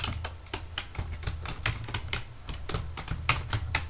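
Someone types on a computer keyboard, producing crisp, close key clicks in uneven bursts with brief pauses between them, and no talking.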